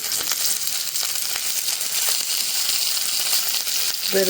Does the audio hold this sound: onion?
yes